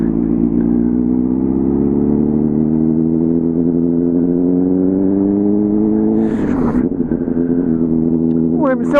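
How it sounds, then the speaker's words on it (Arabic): A motorcycle idles steadily at close range with a low droning tone that wavers and sags. The engine stumbles and sputters near the end as if about to stall, and someone talks over it. "الموتور بحال بغا يسكت."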